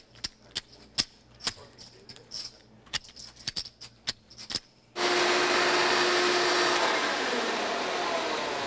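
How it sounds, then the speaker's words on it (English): A series of sharp knocks and clatters comes first, then a vacuum cleaner switches on and runs with a steady, loud droning whoosh and a faint whine until the end. "You can come and help vacuum."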